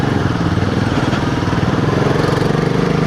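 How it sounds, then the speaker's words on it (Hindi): Royal Enfield Himalayan 450 motorcycle with a decat exhaust pipe, its engine idling in a steady, deep, bassy thrum with even rapid pulses, close and loud throughout with no other sounds. "आपको अगर इंजन का एग्जॉस्ट साउंड आता रहेगा बाइक का,"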